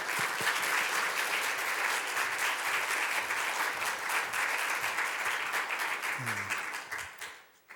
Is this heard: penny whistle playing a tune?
no